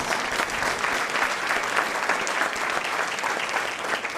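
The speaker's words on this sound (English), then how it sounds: "Let's give them a round of applause." An audience at a university convocation applauds steadily, dense clapping from many hands filling the room at an even, sustained level throughout.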